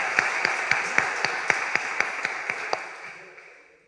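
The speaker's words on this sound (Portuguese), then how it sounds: "Temos um vitorioso aqui, uma salva de palmas." An audience claps together in a steady rhythmic beat, about a dozen sharp even claps over dense broadband applause, fading out near the end with no talking.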